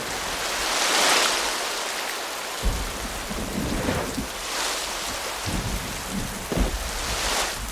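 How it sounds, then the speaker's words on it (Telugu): Heavy rain driven by wind in a Telugu movie storm scene, a dense continuous roar with deep rumbling surges, thunder-like, swelling and fading several times, with no voices. "గాలి వర్షం జోరుగా ఉంది"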